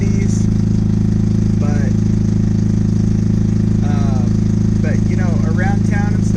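A 1982 Mazda RX7 rotary engine with straight-piped exhaust idles loud and steady up close, a constant rumbling drone while someone talks over it.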